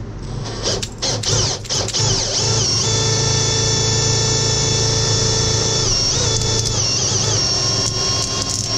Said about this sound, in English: this cable, the flex shaft, is driven by a cordless drill